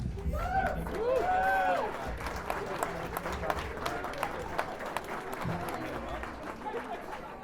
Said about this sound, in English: let's get a round of applause for Leilani